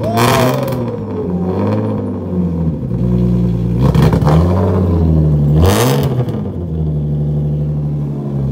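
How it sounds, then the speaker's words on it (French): A BMW E36 engine revs hard inside a garage, several loud blips of throttle rising and falling over a steady idle, close and booming with rattling clatter between bursts. "Je vais y foutre un coup de gaz, tu vas voir."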